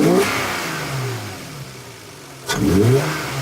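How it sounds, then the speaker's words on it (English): A Lexus IS300 fitted with an HPS intake revs twice, each rev rising sharply then falling back toward idle, loud and close with no voices. "Now that the car's warmed up a little bit, we're gonna see if it makes any different in sound."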